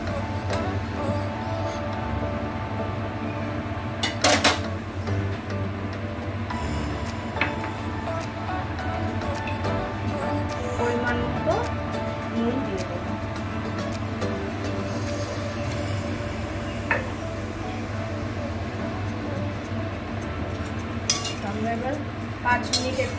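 Fish curry with added water being stirred in a pot, a spoon clinking and scraping against the metal at irregular intervals over a low steady background hum.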